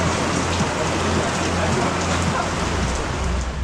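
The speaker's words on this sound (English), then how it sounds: "it's starting to drizzle" Light rain, a drizzle, falls at a mountain bike park during a storm break, a dense even hiss close by that holds steady throughout, with faint voice-like murmur underneath.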